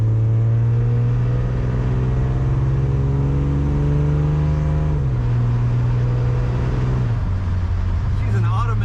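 A 1963 AMC Rambler Classic 550 with a slant six engine, automatic transmission and an Offenhauser header idles and revs steadily up close, its loud engine drone shifting pitch as it eases back down.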